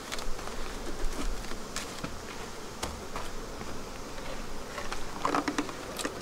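Honey bees buzz steadily around beehives, a dense droning hum with individual insects flitting close by, continuous throughout with no voices.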